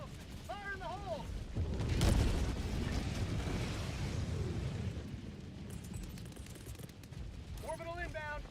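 A grenade detonates in a shooter video game, a loud boom with a rumbling tail that fades over several seconds, while brief electronic voice chirps sound before and after.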